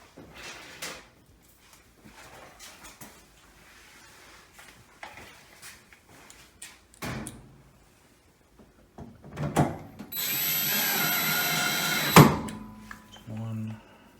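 A screw driver works on a Samsung front-load washer while the door seal diaphragm is refitted. Scattered clicks and knocks of handling lead into a loud, sustained whirring burst of driving near the end, closing with a sharp clunk.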